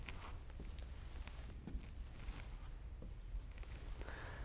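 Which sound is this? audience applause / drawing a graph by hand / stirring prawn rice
drawing a graph by hand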